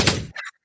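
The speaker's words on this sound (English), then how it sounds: "You can have some Sidney Prescott gunshot." A single loud gunshot sound effect tied to Sidney Prescott from Scream, a sharp close blast with a short ringing tail that cuts off abruptly.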